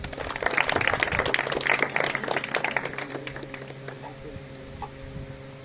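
An audience claps loudly at a prize-giving ceremony for a pigeon-flying tournament, a dense patter of hand claps that peaks early and gradually thins out toward the end.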